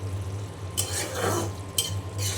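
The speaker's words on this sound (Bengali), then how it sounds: "আমি নাড়া দিয়ে ভাজিটা ভেজে নিব" A spoon stirs vegetable bhaji frying in a pan. Scraping strokes and clinks against the pan come in a few distinct passes over a soft sizzle and a steady low hum in the background.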